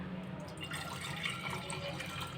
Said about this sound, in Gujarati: તો હવે આની અંદર આપણે પાણી એડ કરીશું.